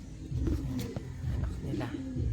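A pigeon coos softly nearby in a low, throaty rolling call, with faint background rustle and a few small clicks.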